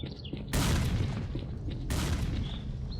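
Sustained gunfire in the video game S.T.A.L.K.E.R.: Clear Sky, with a loud burst that keeps rattling on, then a second heavy onset midway, dense and continuous with no talk over it.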